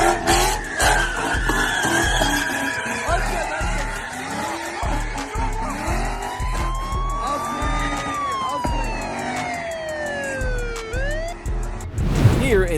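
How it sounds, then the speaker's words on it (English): Tires screech in long, sweeping squeals as a car drifts in front of a police officer, with engine roar throughout and a siren wailing nearby. "These two reckless drivers thought drifting would be cool"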